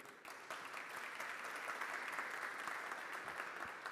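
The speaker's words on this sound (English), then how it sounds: "Let's have another round of applause for Neil." A livestreamed announcement event's audience giving another round of applause for the MC: fairly faint but steady clapping from a room of people, swelling after a brief start and continuing evenly.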